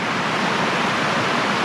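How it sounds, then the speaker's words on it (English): A creek on Vancouver Island swollen by days of torrential downpour rushes past in a dense, unbroken roar of water, close and constant. "this creek right here behind me just carries water like crazy"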